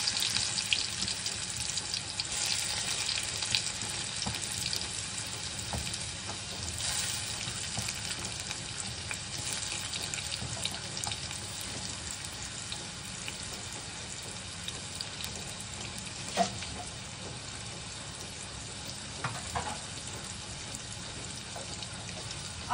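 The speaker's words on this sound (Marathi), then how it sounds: "तेल आता मस्त कडकडीत तापलंय। आता त्यात आपण थोडासा कांदा आणि टोमॅटो घालूया।" Onion and tomato frying in hot oil, a steady hissing sizzle lasting throughout with faint scattered clicks of cooking, fairly close and without any talk.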